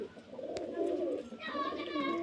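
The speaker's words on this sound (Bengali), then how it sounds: "এই যে দেখুন কোয়ালিটি পায়রার" Pigeons kept for sale at a village home coo in a low, soft, repeated murmur that is close by and steady across the short stretch, with some faint background noise.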